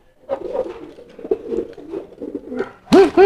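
Fantail pigeon courting a female, giving soft bubbling murmurs that build into two loud, rolling coos at the end, heard close with a faint voice underneath.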